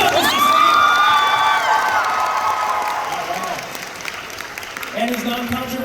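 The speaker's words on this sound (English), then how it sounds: "Big round of applause for Mr. C. Come on, Mr. C!" Convention panel audience at a Helluva Boss fan event in Minneapolis breaking into loud applause and cheering, with whoops and shouts from a large crowd that gradually fades, voices talking over the tail.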